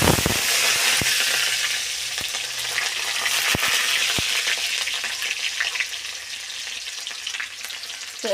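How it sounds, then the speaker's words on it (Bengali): Mustard seeds sizzle and pop in hot oil, tempering for a red amaranth stir-fry; a steady loud crackling hiss runs throughout with a few sharp spattering pops, no voices. "লাল শাক ভাজা করব, তার জন্য সর্ষে দিয়ে দিলাম ফোড়নে।"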